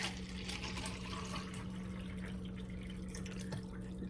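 Liquid poured steadily into a container to fill it to a line, a continuous near splashing trickle with no talk, lasting about four seconds.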